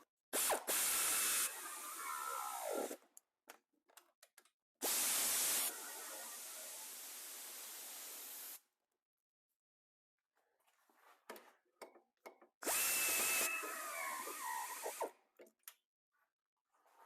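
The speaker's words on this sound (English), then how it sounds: "we're going to tighten the 3 bolts that hold the wheel bearing into the steering knuckle" Ratchet cranking down the three bolts that hold a wheel bearing into the steering knuckle of a GMC Terrain, heard as three separate bursts of rapid close clicking with pauses and small clanks of handling between them.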